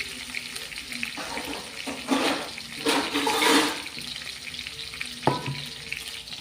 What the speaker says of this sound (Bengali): হালকা সোনালি কালার করে ভেজে নিচ্ছি